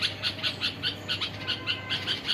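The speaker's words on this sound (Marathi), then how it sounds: "दुसरं झाडावरती चिवचिव करते" Small birds chirp in a tree outdoors near a nest, a rapid run of bright, repeated twittering notes in quick bursts, fairly close and steady over faint background hiss, with no talking.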